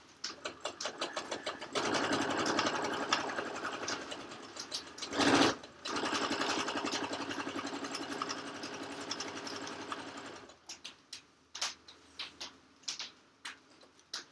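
A sewing machine stitches a pillowcase close by, first with a few separate clicks, then in a long steady rapid run that is briefly interrupted. It ends with slow single stitches and clicks.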